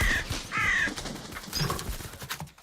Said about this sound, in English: he gets startled by a crow